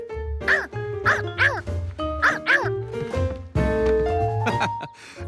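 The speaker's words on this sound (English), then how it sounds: "But it did bark." A very young cartoon otter pup gives a run of short, high, yipping barks in quick bursts, set against a steady musical backing.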